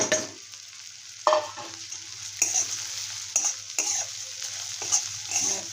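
Crushed urad dal papad is tossed and stirred in a pan, a series of distinct scraping spatula strokes over a low sizzle, close and intermittent, with no speech.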